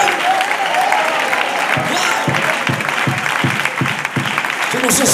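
Church congregation applauds during a sermon, a dense continuous clapping that swells under rhythmic claps, with a voice speaking over it.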